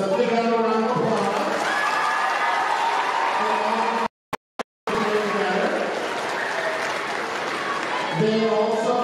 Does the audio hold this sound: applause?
yes